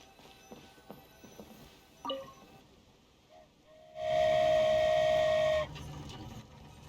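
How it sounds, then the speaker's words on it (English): Steam whistle of the Aerial Express flying train in the video game Genshin Impact, a single loud sustained toot lasting about a second and a half, after a stretch of quieter game sounds. "Choo-choo! Aerial Express moving out!"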